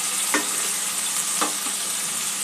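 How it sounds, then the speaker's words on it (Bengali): Onion and ginger paste fry in a pan for a chole masala, giving a steady close sizzle with two brief stirring scrapes, no voices. "পেঁয়াজ আদাটা একটু ভেজে নেব যতক্ষণ না কাঁচা গন্ধটা চলে যাচ্ছে।"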